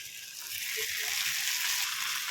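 Peeled tomatoes frying with sautéed onions in a pan produce a continuous, dense hiss of sizzling, steady and close, with no talking over it.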